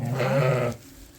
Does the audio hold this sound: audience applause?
no